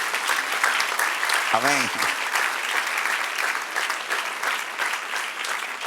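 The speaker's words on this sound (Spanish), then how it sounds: "Dar un aplauso al Señor." A church congregation applauds the Lord after a sermon, with sustained full clapping throughout and a voice speaking briefly over it.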